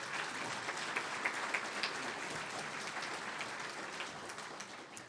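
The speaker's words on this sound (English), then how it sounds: "Let's give that staff a round of applause" A large indoor crowd at a Wake Forest sports hall of fame induction ceremony applauds the event staff, a steady dense roar of clapping that holds for several seconds and eases slightly at the end.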